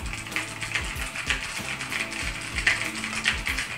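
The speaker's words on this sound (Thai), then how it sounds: "เป็นบลูสวิตแท้จากโอเทมุนะคะ ก็คือเสียงกดก็จะแบบ" Typing on an OKER K88 mechanical keyboard with blue switches, a steady run of sharp, clicky keystrokes at an even pace, close up with no voices.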